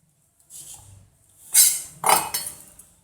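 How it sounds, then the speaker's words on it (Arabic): A knife slices through half an onion, cutting it into strips while cooking a spicy stir-fried squid dish. A soft tap comes first, then a few sharp, close cutting strokes against the board, with no talk. "دي نص بصله ونقول نقطعه شرايح كده تمام، نقطعها شرايح"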